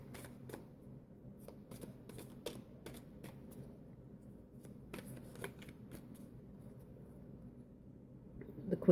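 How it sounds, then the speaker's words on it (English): Tarot cards are shuffled softly and close by, with scattered light riffles and taps over a low background hum, quiet and without speech. "shuffle a little bit more"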